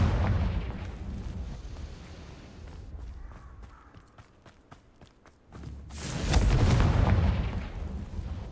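Confringo blasting spell in Hogwarts Legacy, a loud rumbling explosion bursting in around the six-second mark after a quieter stretch of scattered thuds and footsteps, with heavy low-end roar sustaining to the end.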